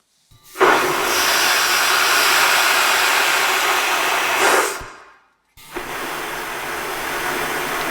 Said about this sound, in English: BYU's quiet flush that reduces the toilet's noise levels to the gentle whir of a vacuum cleaner